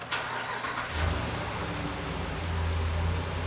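A truck engine cranks briefly, catches and settles into a steady low running idle, fairly close and alone without talk.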